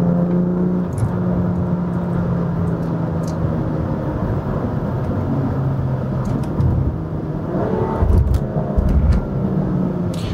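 A BMW with its drive mode set to sport accelerates from inside the cabin, a steady loud engine drone with rising harmonic tones and a deeper surge toward the end, no speech.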